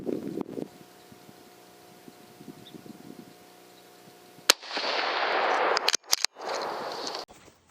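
A rifle fired downrange from a tripod outdoors, a sharp crack at about four and a half seconds followed by a second report shortly after, each loud and ringing out over a hissing background after a quiet hum.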